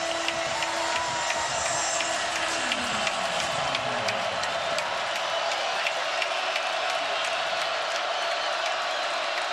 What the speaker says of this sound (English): And this crowd is into it.